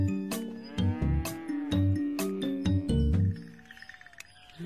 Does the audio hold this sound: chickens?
no